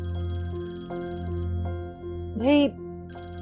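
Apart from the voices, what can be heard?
telephone ringing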